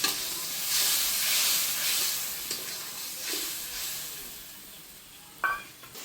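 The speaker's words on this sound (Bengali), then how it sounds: "আর দিয়ে আমি মশলাটা কষিয়ে নেব।" Salted spice masala for chicken stir-fried in a pan, a soft steady sizzle and hiss with occasional gentle stirring scrapes and one sharper clack near the end, fairly quiet and close.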